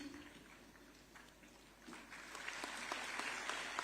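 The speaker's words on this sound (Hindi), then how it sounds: "आप सभी भरपूर तालियां मंच तक पहुंचाएं।" Faint, distant applause from an audience at a government appointment-letter ceremony in Lucknow starts thin and then swells into steadier clapping in the second half.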